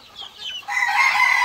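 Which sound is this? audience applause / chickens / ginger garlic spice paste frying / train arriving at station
chickens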